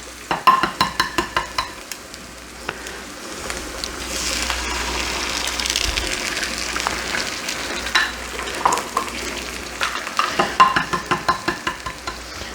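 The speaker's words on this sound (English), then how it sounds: "So, a fried egg." An egg fries in a pan for a full English breakfast, a steady close sizzle with bursts of rapid spatter-like crackles near the start and again toward the end.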